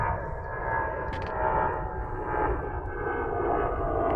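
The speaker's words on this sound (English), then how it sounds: "Golly, Plane, you are loud." A loud airplane passes overhead during a kayak fishing trip, a steady broad engine roar swelling and easing throughout with no talk.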